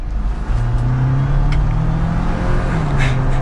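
A Jeep Wrangler Sahara 4xe pulls away from a stop in electric mode, giving a low steady motor hum and tire rumble with a faint rising whine, close and fairly loud with no voices.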